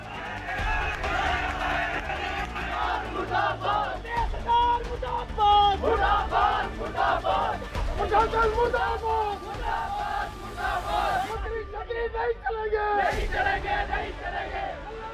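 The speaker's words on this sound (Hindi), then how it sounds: "चंबा के कीहोर थाने के बाहर भीड़ ने नारेबाजी शुरू कर दी" Angry crowd chanting slogans outside the Kihar police station in Chamba, a dense, loud mass of shouting voices that carries on throughout with brief swells and dips.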